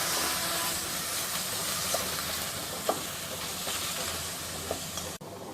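Amla and rice mixture sizzles in oil in a pan, a close, steady frying hiss broken by a few soft scrapes and knocks as it is stirred.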